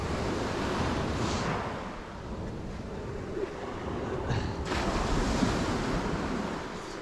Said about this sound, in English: Trying to get the water just along when the waves come in.